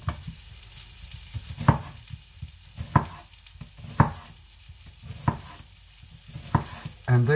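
Chopped Spanish red onion fries in a pan, a continuous sizzle with periodic scraping strokes of a utensil about once a second, close and fairly loud.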